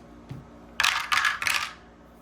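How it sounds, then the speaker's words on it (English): Several six-sided dice dropped onto a hard surface, a quick clattering burst of bright rattles in three rapid clusters, close and fairly loud, with no talk. "Sometimes I'll just get a bunch of D6 dice and drop them down."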